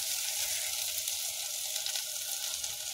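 Beaten egg sizzles as it hits spring onions frying in a hot pan for egg rice, a steady, close hiss of frying that holds evenly throughout with no voices.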